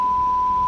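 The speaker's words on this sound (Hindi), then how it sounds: "या शायद इसी बीप साउंड के साथ" A beep sound effect: one loud, steady pure tone held unbroken for under a second, alone.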